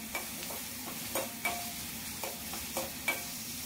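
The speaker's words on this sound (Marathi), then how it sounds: "कांदा थोडा लालसर झाल्यावरती मी टोमॅटो घालणार आहे. चांगलं 2 ते 3 मिनिटं मी परतून घेणार आहे." Onion and tomato sauté in a pan for a pigeon pea curry, a low steady sizzle broken by several soft spatula scrapes and taps at an even rhythm, close and quiet with no talking.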